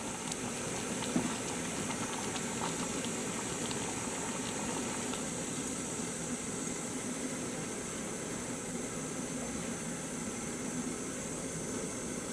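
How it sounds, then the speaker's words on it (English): Water at a rolling boil in a Jetboil camping stove pot, a steady dense bubbling hiss with constant loudness and no pauses, heard up close. "I'm going to lift the lid on this one. That's boiling."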